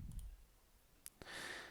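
A faint, quick computer mouse click sounds once over low background hiss, followed by a soft noisy rush, while working in a spreadsheet.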